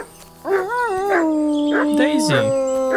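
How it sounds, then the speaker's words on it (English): Dog howling in the Kingdom Come Deliverance 2 video game, a loud close drawn-out howl with wavering pitch that rises, holds and bends down, with some game ambience behind it. "No wonder the dog's howling like mad."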